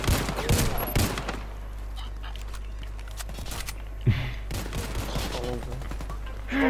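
Gunshots in a shooting video game, a few sharp close bursts among background game sounds, with a voice talking over them.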